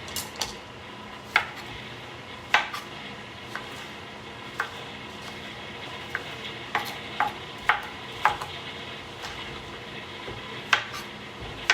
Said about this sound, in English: And then I'm going to throw some zucchini in